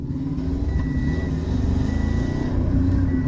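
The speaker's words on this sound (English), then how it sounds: "Oh, shifting gears. Oh my gosh, but what kind of sounds does it even make? Terrible! Everything is grinding." A Toyota Supra MK4 engine drones steadily with a rough, grinding gearbox rumble underneath while shifting gears, continuous and close, with no clear pauses.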